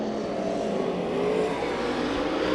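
Race cars roar past during a heat race at Santa Maria Raceway, a loud continuous engine drone that rises and sweeps by close, with no voices over it.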